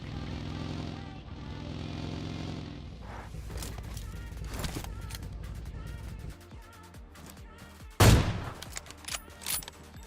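Gunfire in PUBG Mobile, presumably the AWM sniper rifle, with a sharp loud shot near eight seconds followed by scattered smaller bangs and thuds over a dense game soundscape with music.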